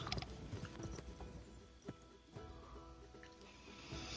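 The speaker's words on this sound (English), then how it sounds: "you did just try and run him over with your horse" Horse galloping in the video game Kingdom Come Deliverance 2, quiet irregular hoof clops with mechanical clicks under a faint low game backdrop, no clear speech.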